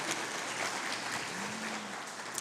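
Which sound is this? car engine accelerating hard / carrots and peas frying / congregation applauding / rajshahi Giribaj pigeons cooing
congregation applauding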